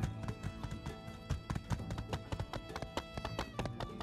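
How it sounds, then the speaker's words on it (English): Horse hooves clip-clop steadily in My Time at Sandrock, a brisk, even rhythm of close, crisp hoofbeats running throughout over a soft ambient bed, with no voices. "Come here, my beautiful horse."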